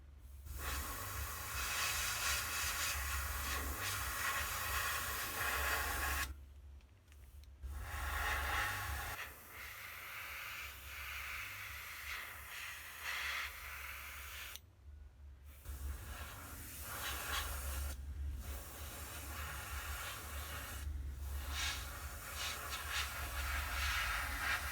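Long continuous hiss of a spray gun laying a candy paint job onto a resin car body, close and steady, broken by several short pauses between passes, with a low hum underneath.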